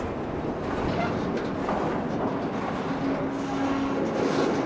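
A slow-moving Union Pacific freight train with its locomotive gives off a dense, steady rumble and roar, loud and continuous, with a faint drawn-out metallic squeal toward the end.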